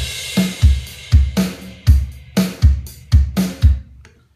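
A rock drum beat from a GarageBand virtual drummer plays alone, loud and steady, with regular kick and snare hits and cymbal wash that repeat about twice a second for roughly four seconds before stopping.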